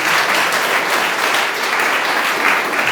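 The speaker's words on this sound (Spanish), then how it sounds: "Si vas a aplaudir, aplaude fuerte en el nombre de Jesús." A church congregation at a Sunday service applauding, a dense, loud, steady wash of many hands clapping that fills the space without pause.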